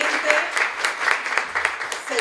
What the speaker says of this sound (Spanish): So, yo quiero un fuerte aplauso para Dileni, que realmente,